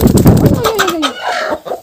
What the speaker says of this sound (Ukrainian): А це, до речі, квочка, яку потрібно, напевно, сьогодні посадити на яйця